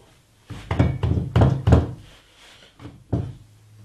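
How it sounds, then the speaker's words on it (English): Glued wooden tenons being pushed into a workbench end frame, giving a handful of dull knocking thunks in an irregular cluster, close and fairly loud, then a couple of softer bumps after a pause. "cover each tenon thoroughly with glue and slide them into place"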